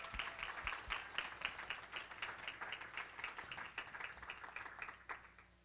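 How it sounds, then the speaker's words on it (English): An alumni event audience gives a round of applause for guest Sasha Strauss, dense clapping from many hands that holds steady and then tapers off near the end, with no speech over it. "let's give a round of applause to Sasha Strauss"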